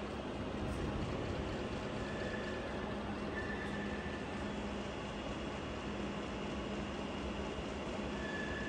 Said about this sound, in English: The spindle speed has been increased to 180 rotations per minute.